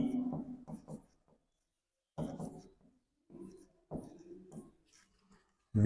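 Pen or stylus strokes on a screen during a physics lesson for a railway exam, coming in short scratchy bursts separated by pauses, close and moderately loud, with no talking over them.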